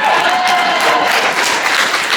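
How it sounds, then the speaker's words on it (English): Brief burst of crowd applause at a bartenders' conference keynote, fairly loud and continuous with a faint tone running through the first second. "I was expecting a bigger applause for that."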